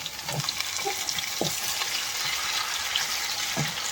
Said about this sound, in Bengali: তাকে ভালোভাবে ভাজা হচ্ছে